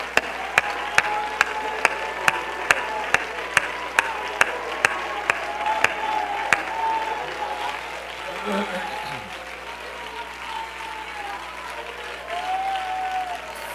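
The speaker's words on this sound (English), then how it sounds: "Let's all clap our hands for just a moment and worship the Lord." Church congregation clapping hands together in worship, a steady run of sharp, evenly spaced claps for several seconds, then fading into murmuring voices and room noise.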